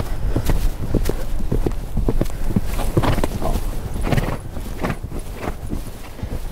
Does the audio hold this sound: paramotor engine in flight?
no